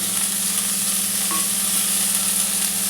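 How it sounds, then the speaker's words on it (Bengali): Thinly sliced bitter gourd fries in a pan with a constant, close, even sizzle and no talking, steady throughout the short stretch. "আমি আগে একে ভেজে নিই"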